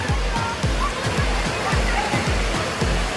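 A steady roar of a waterfall at Malshej Ghat, Maharashtra fills the scene, continuous and fairly loud, with low rhythmic thumps underneath.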